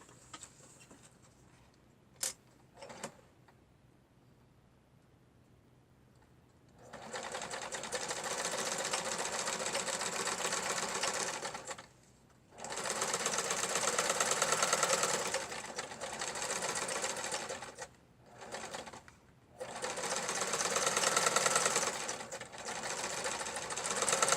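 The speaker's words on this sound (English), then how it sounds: "just a standard zigzag stitch on a sewing machine." A sewing machine runs a zigzag stitch in several bursts of fast, steady mechanical stitching, separated by short pauses, with faint clicks before it starts.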